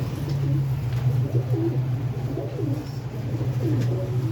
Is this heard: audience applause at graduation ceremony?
no